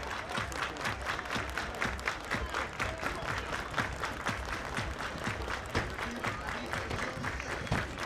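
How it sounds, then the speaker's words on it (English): Crowd at an evening baseball game, many youngsters among them, clapping hands in a steady rhythmic beat, a dense continuous patter of claps with faint crowd murmur underneath. "clapping their hands rhythmically, trying to lend a little inspiration to Trey"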